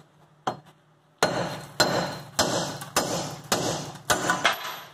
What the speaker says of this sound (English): we're going to take the big hammer over there